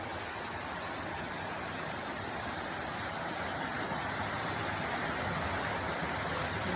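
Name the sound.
creek water flowing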